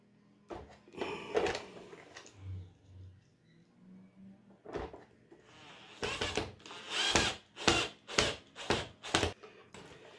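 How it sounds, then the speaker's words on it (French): Power screwdriver fastening a part onto a Samsung robot: several short whirring bursts, close and fairly quiet, then a quick run of rapid pulses at the end, with a little handling noise between. "Donc voilà, maintenant on va la visser."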